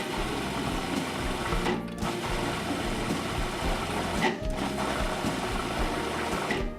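Food processor pulsing strawberry preserves with white balsamic vinegar, a steady loud mechanical whir with brief dips between pulses, close and continuous.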